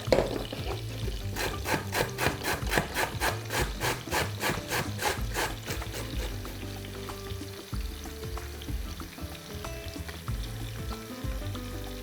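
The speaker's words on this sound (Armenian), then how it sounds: "Ավելացնում ենք 2 գազար, քերում եւ ավելացնում ենք" Two carrots rubbed by hand across a grater in a home kitchen, a quick run of about a dozen rhythmic rasping strokes followed by softer, scattered scraping and kitchen handling noises. No one speaks.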